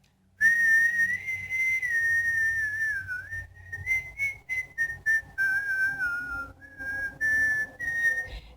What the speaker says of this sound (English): you are going to have to create a lot of airflow behind that whistle.